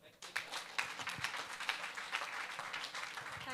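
An audience applauding at an awards ceremony for local adaptation champions: a steady patter of many hands clapping, fairly close and sustained throughout.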